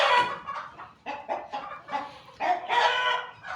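Hens cluck and squawk in a steady run of short, loud bursts close by, with no talking over them.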